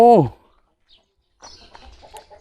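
On a chicken farm, one loud, short squawking call from a chicken rings out close by, then fades into near silence before faint voices and low rustling follow.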